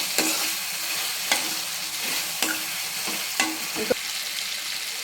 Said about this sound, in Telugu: వేగిందండి, టమాటా పచ్చిమిర్చి అనేది బాగా వేగింది మనకి.